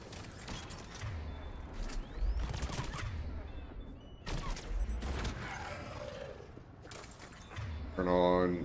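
Gunfire rattles through a Mass Effect firefight: scattered volleys and bursts of shots, some close and sharp, mixed with mechanical clanks, with voices speaking over the action.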